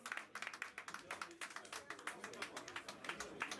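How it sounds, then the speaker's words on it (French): An audience claps in tribute to performer Fred Luisor at a live celebration event. The claps come as a faint, fairly regular rapid patter that continues steadily throughout, with a voice speaking underneath. "On applaudit encore une fois Fred Luisor"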